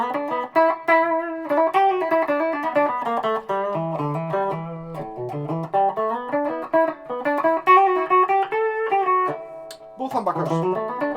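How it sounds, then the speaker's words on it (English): Electric guitar played through a bridge humbucker into a Rat distortion pedal, heard as a loud, sustained run of driven chords and melodic lines filling the whole stretch with no talk over it. "Rat pedal, bit of distortion, bridge humbucker."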